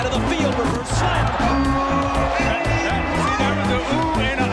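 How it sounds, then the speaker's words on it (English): A large arena crowd at an NBA All-Star game rises in excited oohs and cheers with clapping, loud and continuous beneath a commentator's voice. "that was an ooh and an ah and a clap"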